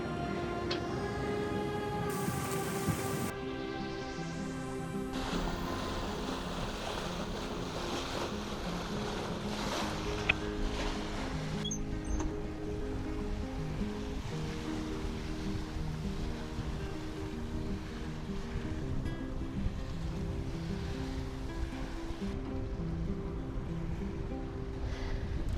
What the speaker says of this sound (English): we finally got the wind I was looking for. Right now we're gusting about 20